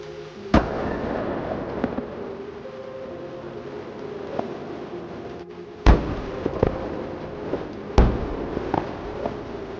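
Battlefield gunfire from a tank and a Bradley fighting vehicle: several sharp, heavy booms spaced seconds apart, with lighter pops and a constant rumbling background between them, moderately distant.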